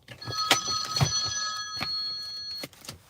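A mini phone ringing with repeated bright electronic rings in short bursts, loud and close, over faint background noise.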